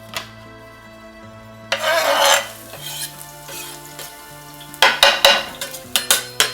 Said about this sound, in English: now what we're gonna do is we're gonna make the saute